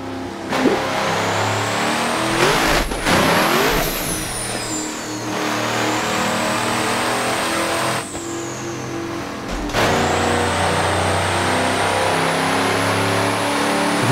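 A 3000 HP turbocharged LSX-swapped GMC Suburban in the Assetto Corsa racing game, engine revving hard and climbing through gears with sharp shift breaks, loud and continuous with rising whine throughout.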